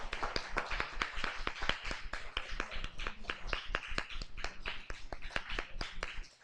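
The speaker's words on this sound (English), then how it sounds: "Let's give them a round of applause." Students applaud the drama team at a morning school assembly, a steady run of distinct, fairly close hand claps from a modest group, with no talking.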